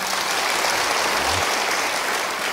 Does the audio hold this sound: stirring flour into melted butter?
no